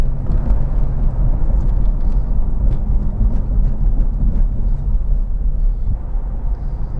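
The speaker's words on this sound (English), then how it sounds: "we'll put it in reverse. Backup camera comes on. We'll apply the throttle." A car engine runs with the transmission in reverse while the throttle is applied, making a loud, close, sustained low rumble that stays steady throughout, with no talking.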